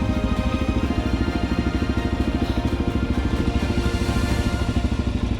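Dirt bikes idle steadily at Big River in Victoria, their engines throbbing in a fast, even pulse that stays loud and close, with no talk over it.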